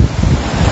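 Moderate to strong wind buffets the microphone beside a lagoon in Arambaré on a rainy morning, with broad rumbling gusts and wave wash blending into a steady, loud roar and no voices.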